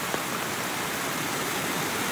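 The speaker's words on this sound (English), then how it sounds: "I just love to hear sound of this waterfall" A forest waterfall near Kristiansand, Norway roars in a steady, broad rushing wash that stays loud and unbroken throughout.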